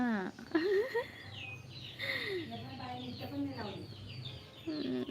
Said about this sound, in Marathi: हे कोंबड्याच्या पिलांचा आवाज आहे